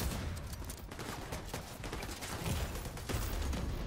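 Dense, continuous gunfire from a firefight in the video game The Division 2 during a raid, with rapid bursts and shots overlapping at a steady loud level throughout.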